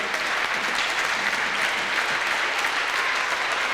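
A crowd applauds at a Glasgow Little League youth basketball championship, loud sustained clapping close by, steady and continuous throughout with no break.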